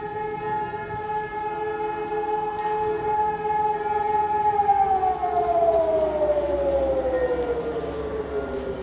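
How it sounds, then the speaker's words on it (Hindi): A civil defense siren sounds at a German fire brigade on the national warning day, holding a long steady wail and then sliding slowly downward, loud and continuous with no voices. "आप इस सायरन की एक बार आवाज़ सुन लें"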